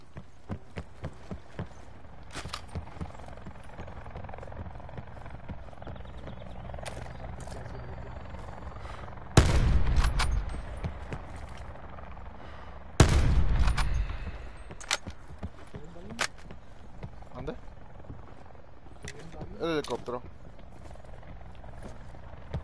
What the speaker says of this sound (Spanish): Es un balazo por acá, güey